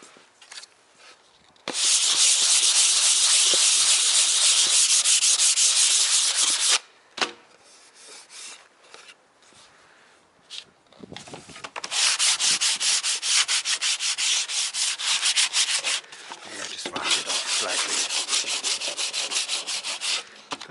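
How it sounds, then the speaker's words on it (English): A painting surface is sanded by hand with sandpaper: long stretches of steady, loud abrasive rasping, broken by a short quieter pause, then the scratchy back-and-forth strokes return in uneven bursts. "might just sand it a little bit more"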